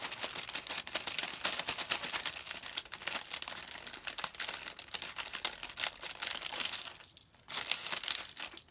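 Small metal dies are cut and snapped out of a sheet, producing a dense, close run of crinkly crackles and sharp little snaps, with one brief lull near the end.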